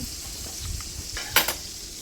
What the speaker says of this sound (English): as a finishing touch to our steaks, we're going to butter baste them